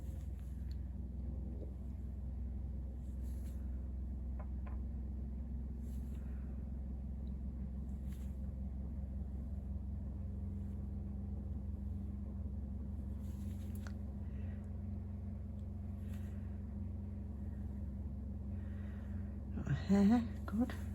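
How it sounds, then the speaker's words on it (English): A washing machine on its spin cycle gives a low, steady drone and rumble all the way through. Faint, soft handling clicks sit on top, with a brief louder rustle near the end. "I'm sorry if you can hear my washer spinning."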